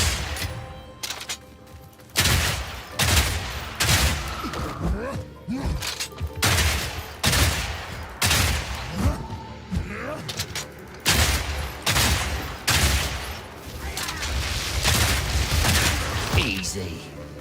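Rapid bursts of gunfire from the Mercenary class in Path of Exile 2, loud and continuous with repeated volleys and booming impacts over game effects.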